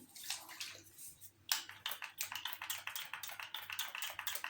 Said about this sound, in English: I forget to do spray my canvas. So I'm gonna spray it now.